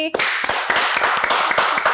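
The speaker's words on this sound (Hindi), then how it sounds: "प्ले टीम के लिए जो है वो एक तालियां तो बनती हैं प्लीज।" Clapping in a morning talk-show studio for the production team, a few close, crisp hand claps at an uneven, loosening rhythm amid light chatter.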